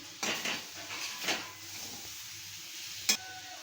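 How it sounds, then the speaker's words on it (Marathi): Dill greens with crushed peanuts and a little oil are stirred in a pan: a few soft scrapes early on and one sharp clink later, over a low steady background hiss. "थोडी तेलाची डाळ टाकते थोडीशी आणि हलवून घेते असं"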